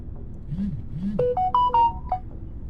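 A phone ringtone plays a short melodic sequence of clear electronic tones, loud and near, rising step by step over quieter background sound.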